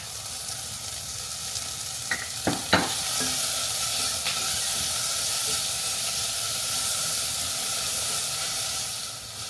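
Chilies hitting hot oil with onions and tomato for a Bangalore-style masala puri gravy, giving a steady broad sizzle and hiss with a few sharp crackles and stirring knocks early on, close and continuous.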